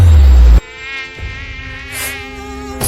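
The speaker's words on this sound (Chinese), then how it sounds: "天庭之中哪来的蚊子？" A mosquito's thin, steady whine hovers close in a fantasy heavenly court, following a loud low thump, with the buzz wavering slightly in pitch for about two seconds.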